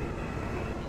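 An R160V subway train in a Roblox subway game at 49th Street gives off a steady, loud rumbling drone with no breaks for the whole short moment, and no voices are heard.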